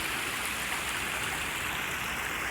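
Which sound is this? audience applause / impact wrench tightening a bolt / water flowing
water flowing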